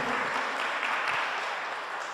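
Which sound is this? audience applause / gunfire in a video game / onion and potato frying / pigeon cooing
audience applause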